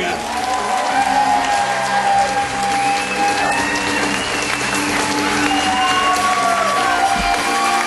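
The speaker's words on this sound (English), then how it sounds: "Please keep your applause going on Mr. and Mrs. David Weinberg." Loud, sustained applause from a large wedding crowd cheering newlyweds, with whoops and cheers rising over it throughout.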